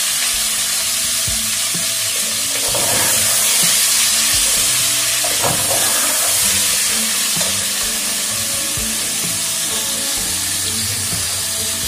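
Onions soften in oil over medium heat for a potato and bitter gourd curry, a loud, continuous hissing sizzle that swells briefly midway, with no one speaking.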